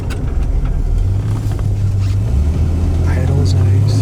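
A 1962 Oldsmobile 88 idles with a steady, low, even engine rumble close by, and people talk over it.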